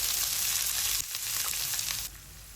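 Three medium onions go into hot oil left from frying okra, giving a dense close sizzle that drops to a quieter hiss partway, with faint stirring scrapes.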